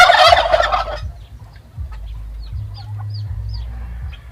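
A loud burst of turkey gobbling opens, followed by quieter chirps and low background rumble, with chickens feeding nearby.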